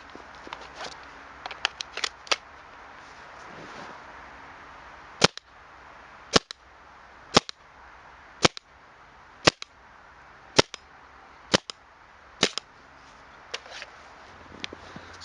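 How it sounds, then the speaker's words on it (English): Sharp gunshots fired one after another at a Sunwayman T20C flashlight, seven or so loud cracks spaced about a second apart after a few lighter clicks, over a faint background hiss. "So I unloaded a whole mag and one other, so about 7 rounds"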